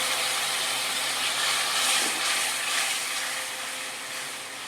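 Water poured onto spice paste frying in oil sets off a loud, continuous hissing sizzle that slowly eases toward the end, with no voices.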